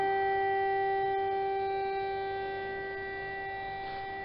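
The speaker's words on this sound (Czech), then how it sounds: "Natočím i tu sirénu." A civil defense siren sounds during a test as a steady, sustained multi-tone wail, loud and unbroken, slowly fading slightly over several seconds with no talking.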